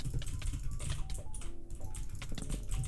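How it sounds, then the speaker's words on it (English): Rapid clicking of a computer keyboard during a ranked Minecraft Skywars match, fast dense keystrokes and taps running nonstop close to the microphone under faint game sounds. "My keyboard is going crazy."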